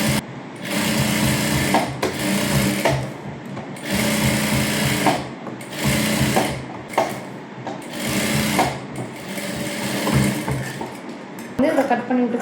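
A domestic sewing machine stitches around the neckline of a child's princess-cut silk blouse in loud, rapid bursts of a few seconds each, separated by short pauses, with someone talking between runs.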